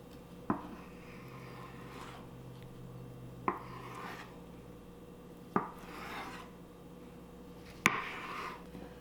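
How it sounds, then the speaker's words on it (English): A knife chopping starchy vegetables into little chunks for a meal, with four sharp chops spaced about two seconds apart, each followed by a soft scrape, close and alone. "So we're just gonna cut these up in little chunks."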